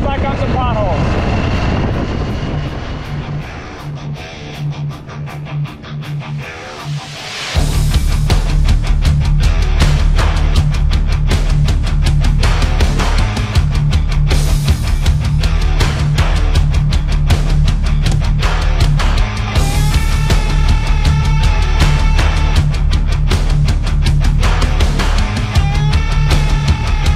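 Harley-Davidson Sportster motorcycle in off-road mode rolling over potholes, a loud steady engine drone with rumbling low end and wind buffeting after a quieter start, continuing at close range throughout.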